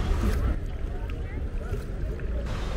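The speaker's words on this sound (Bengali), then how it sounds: "আমরা ডাল লেকের ওপর দিয়ে একটা ছোট ডিঙে নৌকো করে যাচ্ছি।" Small wooden rowing boat gliding across Dal Lake, a steady low wash of water and wind rumble running throughout, close and continuous with no clear oar strokes standing out.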